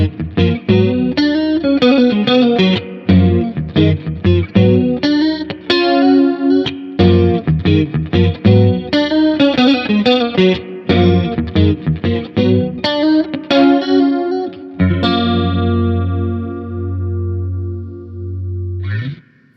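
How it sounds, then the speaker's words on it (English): A clean electric guitar plays through an Echofix EFP3 analog chorus pedal with spring reverb, a shimmering, wavering tone as it strums chords and picks notes, ending on a sustained ringing chord that slowly decays. "just a really lovely sounding analog chorus effect"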